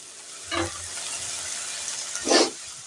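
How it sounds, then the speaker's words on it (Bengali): Tomato and onion with a little salt being stirred in a pan: two short scraping strokes, the second louder, over a soft, continuous sizzle close by. "এবার আমি একটু নাড়াচাড়া করে ঢাকনা চাপা দিয়ে দেবো"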